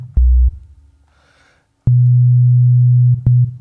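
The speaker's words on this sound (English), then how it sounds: "So we have the sine wave, another of the 4 basic ones." A synthesizer's sine wave oscillator, heard as pure, steady low tones that switch on and off abruptly with sharp clicks, including one long sustained note and a few brief bursts.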